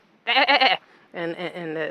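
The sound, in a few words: sheep bleating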